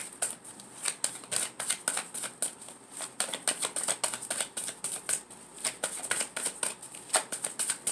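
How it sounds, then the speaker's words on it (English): Rapid papery riffling of a tarot deck being shuffled, repeated bursts of quick flicking clicks close by, with no voices. "I like to shuffle, and then I like them to pop out."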